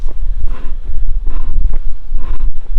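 Gusty breeze buffets an outdoor beehive site, a steady low rumble of wind swelling and easing in waves across the whole moment, with no voices.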